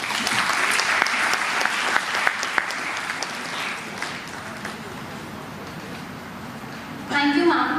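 An audience claps together at a skill festival valedictory function, a loud, dense burst that slowly thins and fades before a brief louder noise at the end.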